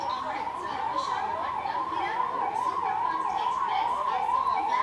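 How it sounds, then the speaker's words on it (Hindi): Emergency siren wailing at New Delhi railway station, a steady rising-and-falling tone that carries on without a break over a constant bed of background noise. "देखिए सायरन की जो आवाज है"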